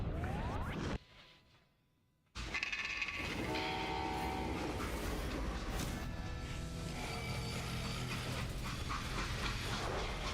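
A train in the video game Call of Juarez: Gunslinger rumbles along with a steady mechanical drone, broken by a short quiet gap, then tonal whistle-like notes sound over the continuing rolling noise.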